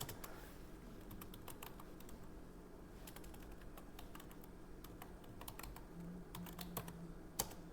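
Computer keyboard typing in a text editor, a quiet and close patter of key clicks in quick irregular bursts over a low steady background hum, no speech.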